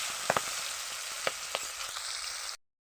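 Cumin, peas and tomato fry lightly in a pan with a steady broadband sizzle, broken by a few sharp spoon taps and scrapes, before cutting to silence near the end.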